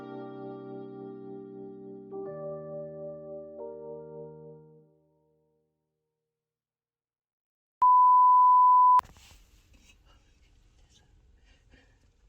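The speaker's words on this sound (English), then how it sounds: "I think that's when it like beeped." After tonal sounds and a stretch of silence, a Tesla car gives one long, steady, pure electronic beep lasting about a second, followed by faint low background noise.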